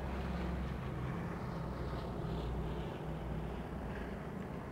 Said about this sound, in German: Ich höre gerade ein Flugzeug, was hier rüberfliegt.